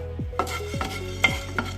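Peppercorns dry-roast in a small pan for sambar masala, giving a few sharp, close pops and crackles spaced irregularly over a quiet background, with no talking.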